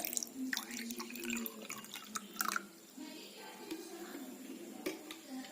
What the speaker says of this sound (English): Fill 1/3 of the glass with water.